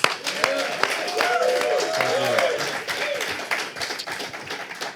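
Audience applause and clapping for a band at a Tulsa music show, a steady crowd wash of claps lasting the whole stretch with some voices mixed in.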